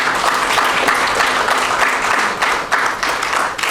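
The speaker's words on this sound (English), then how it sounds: "Can we have a good round of applause?" Audience at a symposium and book release gives a sustained round of applause, dense steady clapping throughout with no talk over it.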